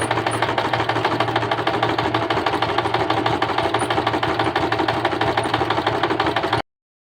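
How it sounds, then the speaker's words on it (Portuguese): A sewing machine runs continuously, stitching a seam through fabric with a steady mechanical whir and fine rattling rhythm, close and loud, with no talking, before stopping abruptly near the end. "Já iniciei a costura fazendo retrocesso e agora com a agulha baixa"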